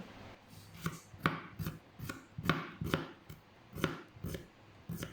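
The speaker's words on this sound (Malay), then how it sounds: "Kita hiris lah semua bahan-bahan ni nak masuk dalam nasi nanti" A knife slices ingredients for nasi dagang on a board, a steady series of about a dozen crisp chopping cuts at an even pace, close and clear with no talk.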